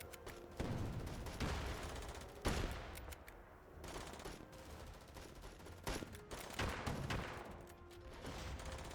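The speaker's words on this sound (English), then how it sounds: "Okay, yeah, they're shooting at me too" Gunfire in the video game The Patriotic War: bursts of rifle and machine-gun fire crack repeatedly across a battlefield, some shots close and loud, others further off, in an irregular fusillade with no voices over it.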